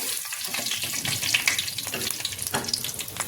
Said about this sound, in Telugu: మరీ మాడకుండా సిమ్లో పెట్టుకొని వేపుకోవాలండి